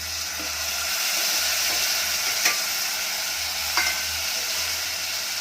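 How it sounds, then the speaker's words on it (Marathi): Chopped tomato hits hot oil tempering in a pan, giving a continuous close sizzle and frying hiss with faint stirring clicks. "आता टोमॅटो टाकून घेऊ"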